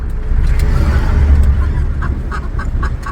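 A dozen chickens carried in a cage give short, squawking clucks near the end, over a steady low rumble of travel.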